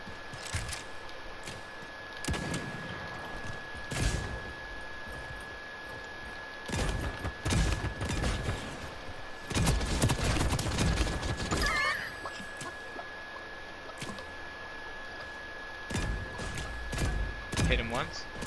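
Sniper rifle shots in the battle royale game Realm Royale, scattered sharp reports and thumps through a busy game soundscape, with players talking over the action.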